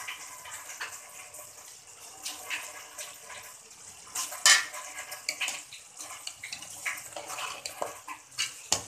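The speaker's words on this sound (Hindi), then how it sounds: "मेथी को खूब अच्छे से धो लें क्योंकि इसमें मिट्टी बहुत होती है।" Fresh fenugreek leaves being washed by hand in a vessel of water to remove soil, with irregular splashing, sloshing and occasional clinks of a bowl, close and fairly quiet, no talking.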